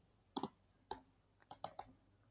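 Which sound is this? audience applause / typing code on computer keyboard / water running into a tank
typing code on computer keyboard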